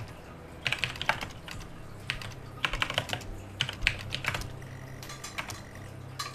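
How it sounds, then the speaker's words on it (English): Fingers tap away on a computer keyboard in quick bursts of clacking keystrokes separated by short pauses, close and fairly clear over a low background hum. "Wow, I can type today."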